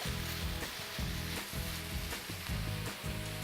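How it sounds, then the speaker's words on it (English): Ground beef fries in a pot with a steady, close sizzle and crackle, broken by regular stirring scrapes and no talking. "Now the ground beef is gonna cook for about 6 to 8 minutes"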